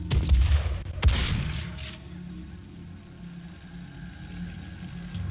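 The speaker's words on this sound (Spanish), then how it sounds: "con las explosiones no se rompe escenario." A couple of loud explosive blasts in the first two seconds in the game DOOM, then a low rumbling game soundscape continues with faint rattling.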